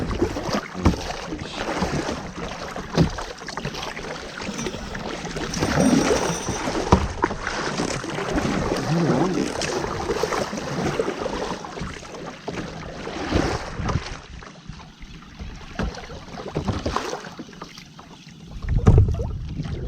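Paddles work a small boat on the open sea near the Sunshine Coast, giving soft, irregular water swishes and splashes under steady wind buffeting, with a louder splash near the end and no speech.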